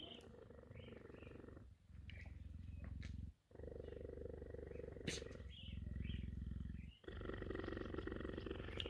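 A cheetah purrs loudly and close in long rumbling cycles, each lasting a couple of seconds with brief breath pauses between, steady and unbroken by speech.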